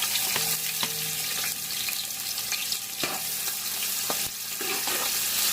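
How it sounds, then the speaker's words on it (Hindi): Onions fry in hot oil in a pot for chicken pulao, a continuous crackling sizzle broken by several distinct clicks and scrapes of a stirring spoon against the pot. "ऑयल हमारा गर्म हो चुका है और अब हम इसमें प्याज डालते हैं"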